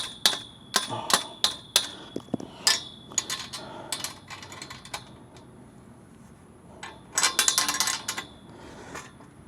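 A hammer taps on a wooden chicken coop frame in a series of sharp, close knocks in irregular clusters, then a pause, then a quick flurry of rapid strikes.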